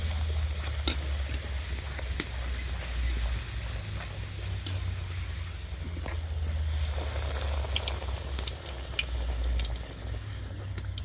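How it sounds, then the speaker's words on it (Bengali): Luchi, puffed flatbread, deep-frying in hot oil, a steady close sizzle with low bubbling throughout and occasional faint clicks. "এইবার লুচিগুলো ভেজে নিচ্ছি।"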